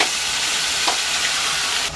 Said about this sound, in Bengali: তেলটা তেতে গেছে, এবার এটা দিচ্ছি। ফার্স্টে টমেটো দিচ্ছি,